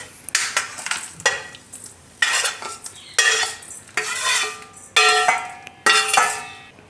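Cooked masala being spooned from a pan into another vessel: a series of about eight separate metal spoon scrapes and clinks against the pot, close and fairly loud, with faint sizzling between strokes.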